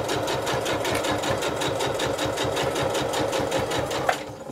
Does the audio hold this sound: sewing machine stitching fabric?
yes